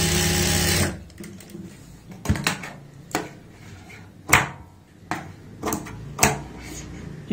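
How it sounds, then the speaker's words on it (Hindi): A sewing machine stitches a blouse seam, one loud continuous run at the start, then shorter bursts and clicks follow as the stitching is doubled over, close up and with no talk. "अब हम यहाँ पे सिलाई लगाएंगे और इस सिलाई को डबल कर लेंगे।"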